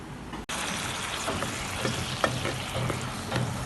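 Kung Pao chicken fries in a wok as chili goes in, a loud, close sizzle with brief stirring knocks and scrapes after a short break at the start, no talking.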